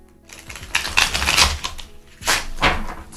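Tarot of the Divine cards by Yoshio Shitani being roughly shuffled, two loud bursts of riffling and slapping with a brief pause between them, close and without talk.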